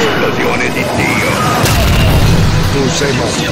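A heavy, booming explosion from a special attack in the fighting game Hokuto No Ken, with a crashing burst about halfway through, layered over dense rumbling noise and effects.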